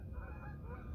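Geese honk over a steady broadband roar of wind and RC airplane flight noise outdoors, the calls faint and partly masked, lasting about a second.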